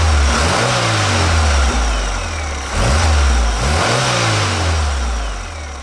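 A 1984 Pontiac Fiero Indy 500 Pace Car with a 2.5-liter four-cylinder engine revs loudly and close, rising twice in strong sweeps that fall back between them, with no talk.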